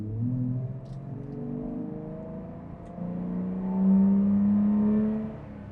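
Nissan Patrol Y61 engine fitted with a cold air intake, a low steady induction drone that swells into a louder rev near the end, heard up close with no talking.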